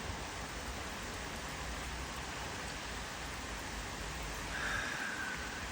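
Steady rain falling outdoors, a soft, even hiss of drops that stays constant and fairly faint throughout, with no voices.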